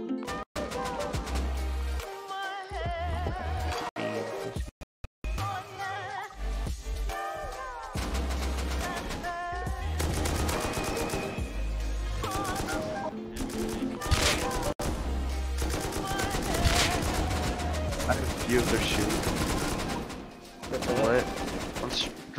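Rapid gunshots and machine-gun bursts from a shooter video game, dense and loud for most of the stretch, with brief gaps and layered with music.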